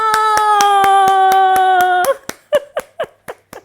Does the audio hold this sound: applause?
yes